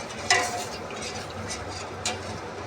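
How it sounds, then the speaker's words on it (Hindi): Spoon stirring chicken soup in a pot at home, with two sharp metallic clinks against the pot rim over a soft continuous simmering hiss; no talking. "अब इसको चम्मच के साथ मिक्स कर देते हैं।"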